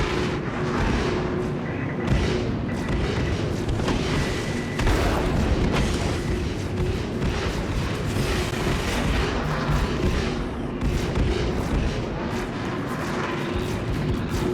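Heavy, booming shotgun blasts fire in rapid, irregular bursts during a Star Citizen firefight, loud and close, layered over a dense rumbling din.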